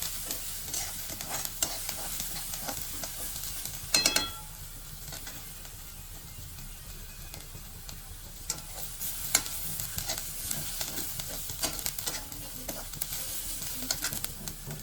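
Onion browning in a hot pan for an aloo paratha filling, a soft continuous sizzle with occasional scraping stirs and a couple of metallic clinks from the spatula, fairly quiet and steady.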